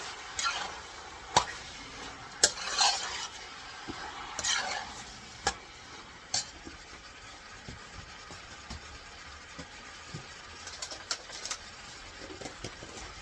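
Spoon scraping and stirring dinuguan, a Filipino black stew, in a pot, with irregular sharp clinks and scrapes over a soft steady simmer, moderately close and without talk.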